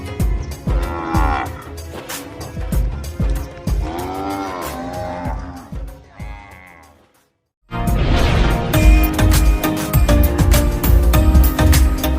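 Cattle moo repeatedly and loudly at a cow shelter in rural Jalore, Rajasthan, with long drawn-out calls, a brief silent gap, then a busier stretch of mooing and farm noise.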